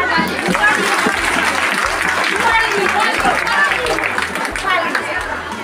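Crowd applause for a woman named Sonali Ghosh, honoured for her small home-based industry, a sustained clapping wash mixed with crowd chatter over a low, pulsing background.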